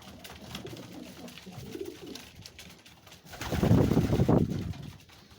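Pigeons coo in a loft, a soft low burbling that builds into a louder, fuller cluster of overlapping calls near the end.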